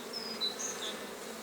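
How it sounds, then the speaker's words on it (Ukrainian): Honey bees buzz around an open beehive with exposed brood comb, a dense, steady drone with a few individual bees whining close by over it. The sound is brief and moderately loud, with no voices. "Трошки відганю бджіл."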